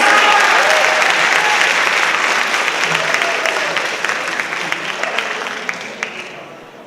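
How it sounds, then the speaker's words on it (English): Audience at a high school senior awards night applauding a group of students, sustained dense clapping that starts loud and gradually thins and fades over several seconds, with a few scattered claps at the end. "Give these guys a round of applause."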